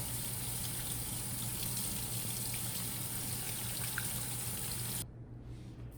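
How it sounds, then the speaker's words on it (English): Hands being washed under a running tap give a steady, close rush of water that stops abruptly near the end, leaving quiet room tone. "I'm gonna wash your hands first, real good"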